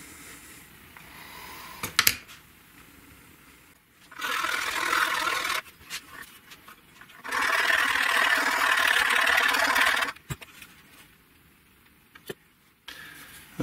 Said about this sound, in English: Okay, well, I'm going to get sanding.